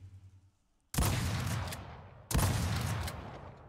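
Two separate shotgun hip-fire blasts in a video game, each a sharp loud report with a decaying tail, about a second and a half apart, following a short faint lead-in.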